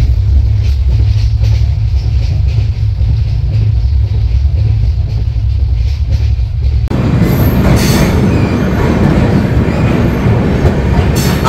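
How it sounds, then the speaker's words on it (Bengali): The 13135 Kolkata–Jaynagar express rolls along in a steady, loud, continuous rumble with a rhythmic rail clatter, turning brighter and harsher partway through as if a door opened or the train crossed onto noisier track. "আমাদের ট্রেন এখন আমাদের গন্তব্য জয়নগরের দিকে যাচ্ছে"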